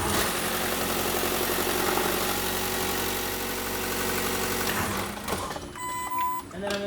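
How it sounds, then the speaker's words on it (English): A Chevrolet Volt (2010-2015) engine idling just after an oil and filter change, a steady mid-pitched running hum that cuts off abruptly near the end, leaving quieter workshop sounds. "I'm going to turn the engine on and let it run for about 40 seconds."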